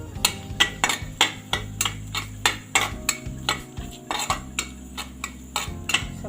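Bay leaf and a dried red chili fry in a pan while a utensil clatters rhythmically against the metal, about a dozen close knocks and scrapes over a faint sizzle.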